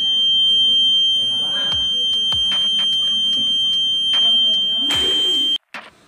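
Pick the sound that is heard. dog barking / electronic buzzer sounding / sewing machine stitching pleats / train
electronic buzzer sounding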